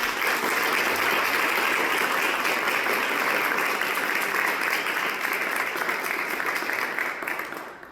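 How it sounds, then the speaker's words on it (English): An audience at a city donation announcement claps in a continuous, dense round of applause that stays loud and even for several seconds before tapering off at the end. "Please join me in clapping one more time for the United Way."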